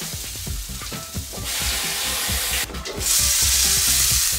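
A veggie burger patty fries in a little oil in a pan, giving a loud, continuous close sizzle with intermittent scraping and tapping of a utensil underneath.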